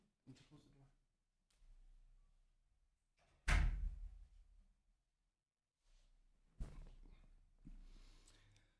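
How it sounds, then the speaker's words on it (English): A sharp door slam rings out loudly mid-recording, followed later by a second, softer thud, with quiet breathing and small movements around them in an otherwise silent room. "Oh, need to close the door."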